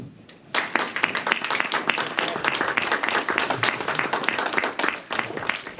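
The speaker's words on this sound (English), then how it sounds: "Give him a big round of applause." An audience claps at a meet-the-candidates event in Kincaid, Illinois, with dense, steady applause that starts abruptly after a brief lull and keeps going at an even level until the end.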